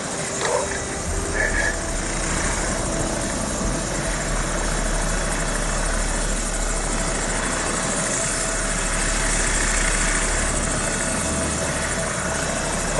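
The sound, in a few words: helicopter circling in video game Modern Warfare 2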